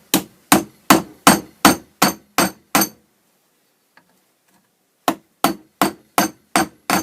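Metal hammer blows on the anvil part of a vise, peening the handle pins of a knife made from a saw blade: seven sharp, evenly spaced strikes, a pause, then seven more, close and clear.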